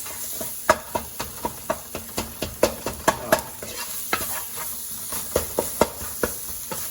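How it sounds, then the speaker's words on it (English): Taco-seasoned steak and onions fry in a pan under a steady sizzle, while a utensil stirs and scrapes in quick, irregular strokes, each scrape a sharp, close clack over the hiss. "I'm just gonna cook this until my onions get a little tender"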